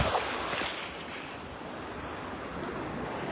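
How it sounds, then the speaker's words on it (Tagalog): Strong surf rolling onto a beach at sunset, a steady broadband wash of breaking waves with some wind buffeting the microphone, sustained and fairly close throughout. "ang lakas ng alon"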